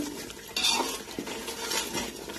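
A spoon stirring a mixed vegetable bhaji mixture in a metal pan, with continuous scraping and clinking of utensil on cookware and a light sizzle underneath, close and steady.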